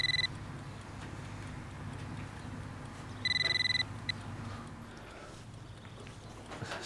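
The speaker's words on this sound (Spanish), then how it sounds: "Atende el teléfono si quieres" A telephone rings indoors during a conversation in a home, giving two bursts of bright, electronic ringing separated by a pause, over a low hum of background noise.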